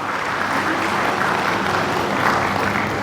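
Audience applause at a school founders' day principal's address, a dense steady clapping from a crowd filling the room throughout, with no talk over it.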